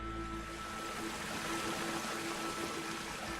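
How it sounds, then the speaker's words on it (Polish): Rain falling on Mars in the video game Waking Mars, a continuous watery rush and hiss with a faint steady tone running through it, moderately loud and unchanging. "Woda!"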